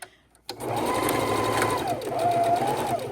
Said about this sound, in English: I'm going to sew all the way around the neck.